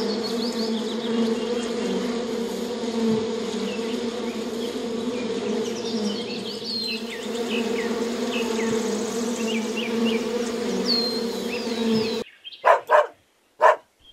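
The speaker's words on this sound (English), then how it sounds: "bee" A bee buzzes in a steady, loud, close drone for about twelve seconds, followed at the end by a few sharp dog barks.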